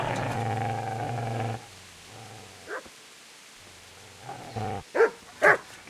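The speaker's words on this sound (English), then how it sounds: "Get away, you mutt!" A dog in the medieval video game Kingdom Come Deliverance growls steadily at first, then falls quiet before a few sharp, close barks and yelps near the end.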